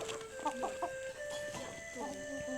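Chickens clucking in a rural village near the Vietnamese border in the evening, several short close clucks in quick succession over a steady background hum, with a person talking alongside.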